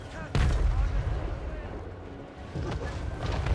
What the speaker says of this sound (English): Alright, good miss on the cannon there.